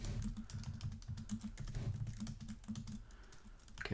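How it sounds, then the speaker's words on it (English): Computer keyboard typing at a home desk, rapid irregular clicking keystrokes in close, quiet bursts with short pauses, no talk. "let me get back to typing this up."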